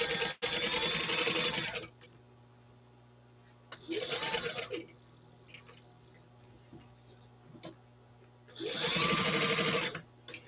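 A sewing machine top stitches a pencil case with a long stitch length, running in three rapid, close whirring bursts separated by pauses with a low steady hum underneath.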